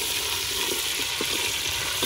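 Ginger hits hot oil in a pan with garlic and sizzles, giving a steady, close frying hiss with small crackles throughout.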